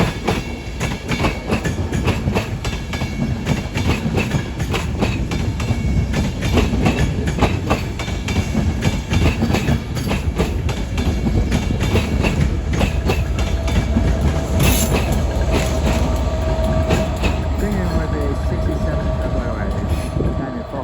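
Passenger trains running through Crewe station on the West Coast Main Line, with loud rumbling wheels and rhythmic clickety-clack over rail joints, sustained for the whole stretch, with a station announcement voice in the background.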